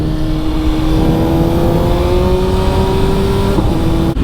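BMW S1000RR 2025 superbike with a full Akrapovic exhaust, its engine note climbing steadily in one long loud pull before a brief shift near the end, close and continuous.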